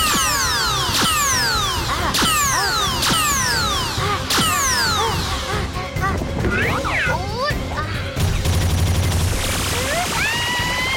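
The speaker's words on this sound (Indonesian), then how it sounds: "Namun seperti Elsa, tidak ada satupun tembakan yang mengenai sasaran." Gunshots in an animated cartoon, rapid bursts of sharp zapping shots with descending whistling tones, layered with mechanical clatter and effects, loud and busy with brief talk mixed in.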